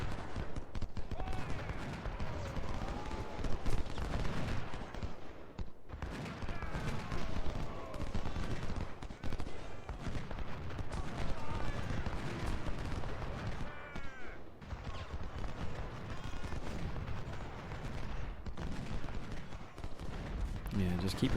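Musket volleys crackle through a Civil War battle in Ultimate General: Civil War at Corinth, with dense continuous gunfire and scattered bursts over a rumbling battlefield bed, and a voice talking throughout.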